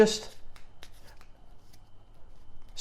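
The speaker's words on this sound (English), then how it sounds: "the Hindu shuffle is just a case of pulling cards off the pack" Soft, quick riffling of playing cards in a Hindu shuffle after a brief burst of noise, a few light flicks and slides in a quiet room.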